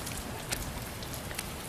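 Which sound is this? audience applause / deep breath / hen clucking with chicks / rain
rain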